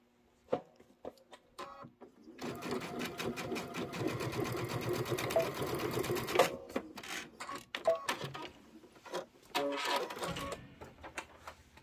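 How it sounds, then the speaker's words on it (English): Sewing machine stitching quilt pieces together in a chain-piecing run, giving a steady close mechanical whir of fast needle strokes for several seconds, framed by clicks and handling taps before and after. "We're going to press these and then we'll sew them together."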